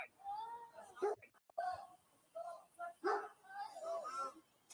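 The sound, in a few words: dog barking in a video game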